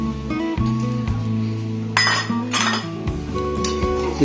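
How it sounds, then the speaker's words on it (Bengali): Tamarind water is stirred in a metal pot, heard as repeated clinks and scrapes of a utensil against the pot over a steady hum of background tones. "দেখুন ভালোভাবে আমি মিশিয়ে নিচ্ছি টক জলটা, মানে তেঁতুলের জলটাকে"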